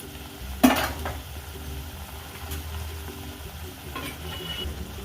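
Prawn malai curry being stirred in a kadai, with a soft scraping and sizzling that runs steadily throughout and one sharp clank of utensil on metal near the start.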